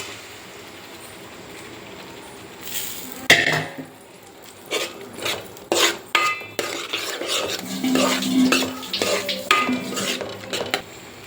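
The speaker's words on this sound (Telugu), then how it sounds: "శనగలను ఉడకబెట్టుకున్నాం కదండి చూడండి ఇలా సాఫ్ట్గా అయ్యేంతవరకు ఉడకబెట్టుకోవాలండి సాఫ్ట్గా వీటిని ఈ మసాలాలో షిఫ్ట్ చేయాలి" Boiled soft chickpeas tipped and stirred into a masala curry in a pan for chole butter masala, with repeated metal spoon scrapes, clanks and knocks against the pan, close and fairly loud after a quiet start, no speech.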